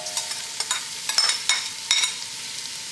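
Vegetables for chicken soup sizzle steadily in hot butter, with a close, bright frying hiss broken by brief scraping stirs from a spoon in the pan.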